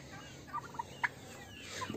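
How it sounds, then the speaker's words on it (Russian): Turkey calling outdoors on a farmyard morning, a few short, faint gobbling notes at a distance over quiet background noise. "Где-то видела, тут ходит индейка, вылезла."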